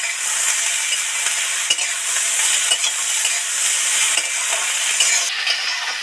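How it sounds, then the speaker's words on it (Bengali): Tomato and snake gourd frying in a pan, with a steady loud sizzle and scraping stirring strokes running throughout, close up and with no voices. "টমেটো আর চিচিঙেটা আরো 2-4 মিনিট ভালো করে ধরে ধরে ভাজতে থাকবো।"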